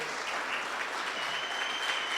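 Congregation applauding in a church service, a steady, dense wash of clapping from many hands that holds evenly throughout.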